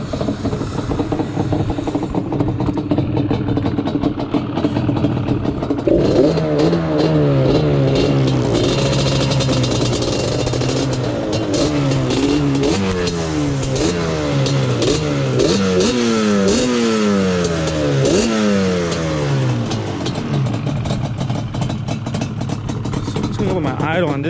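A Yamaha Banshee 350 ATV engine revs hard and close, its two-stroke note climbing and falling in repeated throttle blips over a steady rough idle throughout.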